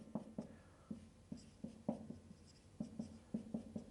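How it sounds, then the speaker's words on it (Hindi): A chemistry formula for glycol is being written on a page, giving a series of soft, close scratchy pen or chalk strokes in an irregular rhythm, with no talking. "बिल्कुल मिडल में हम लिखेंगे ग्लाइकॉल का फॉर्मूला।"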